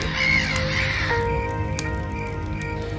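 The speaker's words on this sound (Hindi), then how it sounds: "पेड़ के इर्द गिर्द हवा में कौवे इकट्ठे होकर कांव कांव करने लगे" Harsh crow caws ring out a few times over a steady droning hum, fairly close and brief, with no voices.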